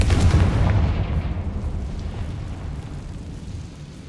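A Confringo fire spell explodes in the video game Hogwarts Legacy, a loud, deep, rumbling blast that hits at once and then slowly fades over several seconds.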